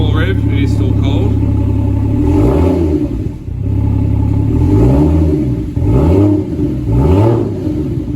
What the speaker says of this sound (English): We'll just give it a small rev, it is still cold.